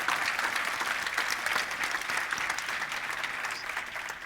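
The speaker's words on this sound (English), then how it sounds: "if you can give her a big round of applause" A conference audience at a UX event in Poland gives a sustained round of applause, dense steady clapping filling the room from start to finish with no talk over it.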